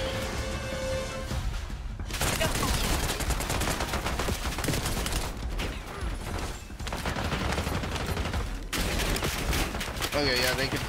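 Call of Duty gunfire: dense, rapid bursts of shots and impacts fill most of the stretch, loud and continuous, with brief lulls and a player's voice talking over the action.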